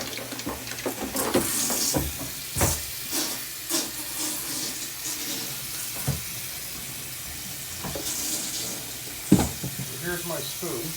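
A spoon stirs thick molasses into water while mixing plant nutrients, giving irregular scraping and sloshing strokes with sharp clinks, fairly close and moderately loud, with no talking.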